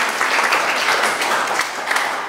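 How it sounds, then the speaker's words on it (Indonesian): An indoor audience at a Ramadan break-the-fast gathering applauds in a dense, continuous wash of clapping, fairly loud and even throughout with no voices over it. "Tepuk tangan untuk kita."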